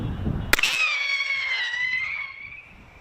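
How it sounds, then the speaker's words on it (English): A scare-away gun fires once with a sharp loud bang meant to drive off geese, followed by a long ringing, fading whine that decays over a few seconds. "That is the sound of a scare-away gun."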